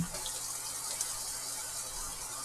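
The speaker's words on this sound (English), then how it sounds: "I hope nobody has that weird condition where you don't like the sound of water." Water runs steadily from a kitchen tap during cooking of honey chicken, a constant soft hiss with no talk over it.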